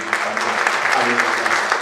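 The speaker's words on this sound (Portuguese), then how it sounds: "Salve palmas para Ele." Church congregation at a Portuguese-language worship service claps in praise, a dense, continuous wash of hands with voices mixed in underneath, loud and steady throughout.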